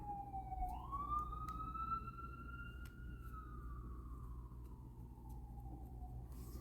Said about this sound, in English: cars honking and sirens are pretty much the norm